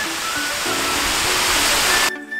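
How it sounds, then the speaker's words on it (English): A waterfall along the Niagara Escarpment near Hamilton, Ontario, roars as a loud, continuous broadband rush that cuts off abruptly near the end, leaving faint background tones. "Around every corner, there were waterfalls along the Niagara Escarpment"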